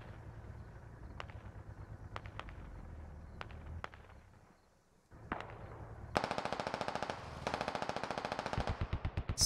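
Gunfire in the video game SquadOps: scattered single shots, then sustained bursts of rapid automatic fire growing louder and denser, with a low rumbling backdrop.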